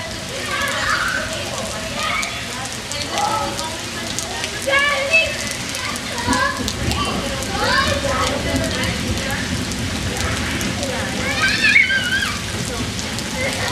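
Steady rain patters across a surface in the Arizona desert, a dense continuous hiss at moderate loudness with people talking and calling out over it throughout.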